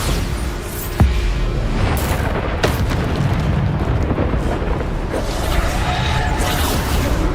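Bombarda explosion spells from the video game Hogwarts Legacy, a string of loud booming blasts with rumbling, whooshing tails that layer one over another, with a sharp hit near the start.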